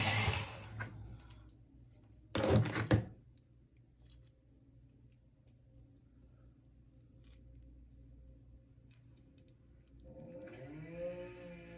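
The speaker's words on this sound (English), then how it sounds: "And then I'm just gonna pop my pencil in the sharpener." A pencil being sharpened in a sharpener while setting up a dot mandala painting gives two loud, close, scratchy grinding bursts, one at the very start and a stronger one shortly after, followed by a long low steady hum with faint tonal sounds near the end.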